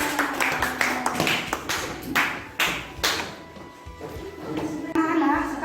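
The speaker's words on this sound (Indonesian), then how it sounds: "Tepuk tangan." A classroom of children claps in a series of loose, uneven slaps, close and lively, with young voices chattering over and between the claps.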